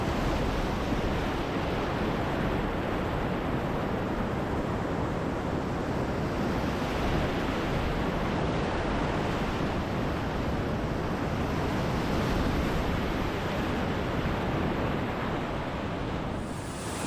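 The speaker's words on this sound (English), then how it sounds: "Just downstream, Elk Creek Rapid has a series of cascades" Whitewater on the South Fork Salmon River at Elk Creek Rapid, a series of cascades giving a dense, constant roar of rushing water that stays loud and unbroken, with no voices.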